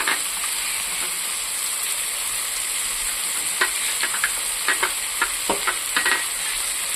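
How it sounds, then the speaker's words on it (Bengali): Curry paste for a fish and eggplant curry sizzles steadily in a hot pan, a loud continuous hiss, joined partway through by the scrape and clatter of a spoon stirring against the pan. "এটাকে আমি নাড়াচাড়া করব।"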